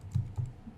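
Typing on a computer keyboard, a few soft, quiet key clicks in quick succession with no talk.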